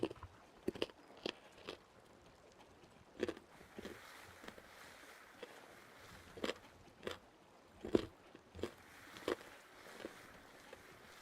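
Crunchy roasted, dried barbecue corn is eaten in the Vintage Story video game, making about a dozen sharp, dry biting crunches at irregular intervals over a faint, quiet background.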